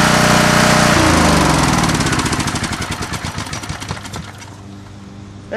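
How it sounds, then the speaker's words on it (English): Coleman Vertex 7850 Professional vertical portable generator running loud under a drill load, then the engine drops into a rapid rhythmic putter as the idle switch slows it, fading over a few seconds. "grab the drill and test it out anyway, just to show you how the idle switch works there"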